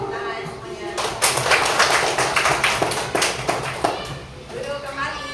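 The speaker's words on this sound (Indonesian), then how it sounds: "Tepuk tangan semuanya." Schoolchildren in a classroom break into applause, a burst of fast, uneven hand claps that swells after a quiet opening, holds for a few seconds up close, then thins out, with voices underneath.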